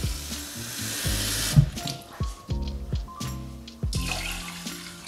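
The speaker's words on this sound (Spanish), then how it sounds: "entonces le pondremos 2 vasos de agua" Water pours from a tap into a cooking pot for basmati rice, a continuous splashing flow with bubbly, dripping patterns running steadily through the whole stretch, fairly close and alone.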